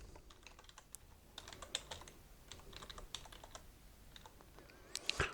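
Keys clatter on a computer keyboard at a Windows 11 PC, a quiet, irregular run of light taps with a brief louder burst near the end.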